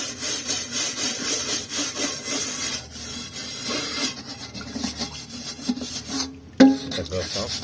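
Rhythmic rasping scrubbing strokes as cleaning paste is worked against the burnt crust inside a scorched pot, close and steady, with some harder scraping near the end.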